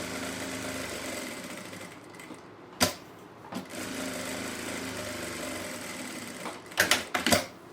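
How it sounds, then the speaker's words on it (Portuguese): A sewing machine runs steadily, stitching fabric scraps onto the inside of a handmade bag, a close continuous hum broken by a few sharp knocks and clicks near the middle and end. "pelo lado avesso eu vou passar uma costura aqui, prendendo esse restante aqui desses retalhos"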